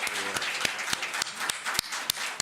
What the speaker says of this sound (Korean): 이렇게 만들어 주신 하나님께 감사의 박수.